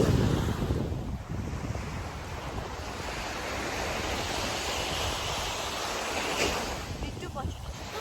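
Ocean waves wash steadily onto Gwangalli Beach in Busan on a morning, a continuous broad surf roar with wind buffeting the microphone throughout.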